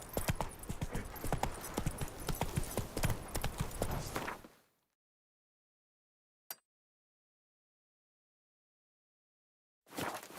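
Hooves of Roach, the horse in The Witcher 3, clopping in a steady rapid rhythm for several seconds before falling silent, then a brief click and the hoofbeats starting again at the end.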